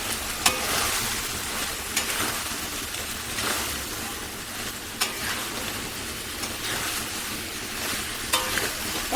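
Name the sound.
cauliflower and potato being fried and stirred in pan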